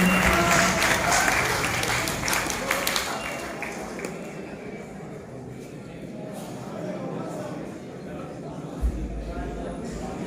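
Audience at an Urdu ghazal and poetry competition applauds a poet, a dense burst of clapping in the first few seconds that gives way to a quieter crowd murmur with some talk.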